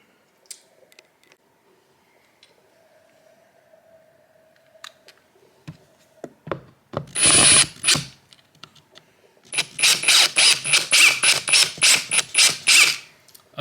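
During the install of a 40 by 56 inch Andersen window, a power drill drives a 5-inch screw: scattered clicks and handling noises, then a short loud whirring burst, a pause, and a longer pulsing run.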